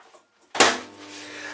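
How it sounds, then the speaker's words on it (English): A microwave oven door is pulled open in a home kitchen while beef is being prepared for a homemade beef, wedges and onion pie, giving one sudden close clunk followed by a short fading ring. "I'm gonna put this in the microwave"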